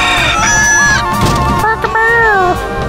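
Twin chickens clucking and crowing in the video game Katamari Damacy, a few bright, warbling calls that sit over the game's busy background music.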